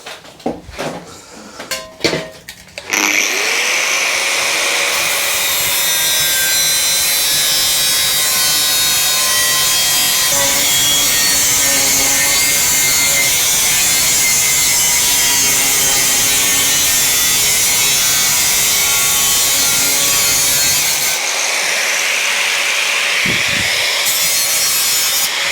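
A saw cuts the seat base shape for a custom Suzuki motorcycle seat in one long, continuous, loud rasp lasting about twenty seconds, preceded and followed by brief knocks and handling sounds.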